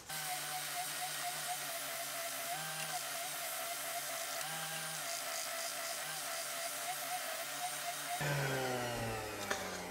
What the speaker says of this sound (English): I can now easily sand this down.